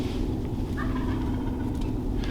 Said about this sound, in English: These birds just started gobbling again.